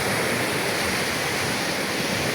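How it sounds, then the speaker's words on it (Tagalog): Sea waves wash onto a sandy beach at Nasugbu, Batangas, a loud, unbroken roar of surf and rushing water with no pauses or voices. "Punta pa lang yung alon sa Dalampasigan, naghakot na ng buhangin"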